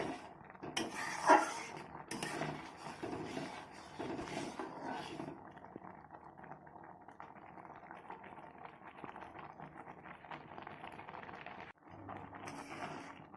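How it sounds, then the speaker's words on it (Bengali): Sweet hog plum chutney stirred in a pan, a spoon scraping and clinking against metal over a low bubbling simmer, fairly faint and continuous with a brief pause near the end. "আর এইভাবে নেড়ে চেড়ে আমি মিষ্টি চাটনিটা তৈরি করে নেব"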